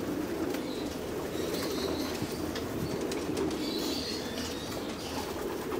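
Domestic pigeons in a loft coo and murmur steadily throughout, with occasional wing rustles and faint chirps over a constant low ambient hum; no talking.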